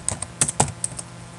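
A computer keyboard is typed on in a quick, uneven run of about ten close, crisp keystrokes over a short moment, with nothing else heard.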